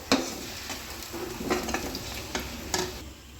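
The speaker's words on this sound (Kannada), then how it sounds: "ನೀವು ನೋಡ್ತಿರ್ಬೋದು ಚೆನ್ನಾಗಿ ಕುಕ್ ಆಗ್ತಿದೆ ಇವಾಗ ಎಗ್ಸ್ ಎಲ್ಲ" Eggs frying in a pan while being stirred, with a steady soft sizzle under several sharp scraping and tapping strokes of a utensil against the pan, close and moderately quiet.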